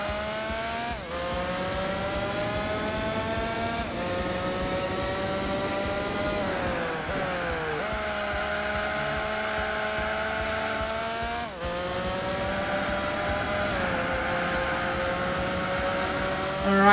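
Racing game engines from Gran Turismo 4 in an endurance race, with a Motul car and an RX-7 among the field, whine continuously and loudly, their pitch climbing through gears and dropping at each shift across the whole stretch.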